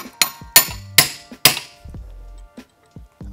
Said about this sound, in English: Get the little hammer out.